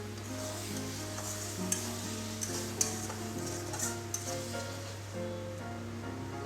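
Egg curry masala with whole green chillies frying in a pan, a continuous steady sizzle under a low hum, with a few light stirring clicks and no speech.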